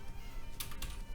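A few quick keystrokes tap on a computer keyboard while a command is entered during an Arch Linux install, faint and close over a low background hum.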